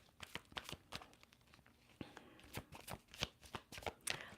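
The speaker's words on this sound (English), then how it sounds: "All right, Varsha, I'm getting cards for you." Tarot cards being shuffled by hand, a series of quiet close riffling and flicking bursts in an irregular rhythm, with no speech.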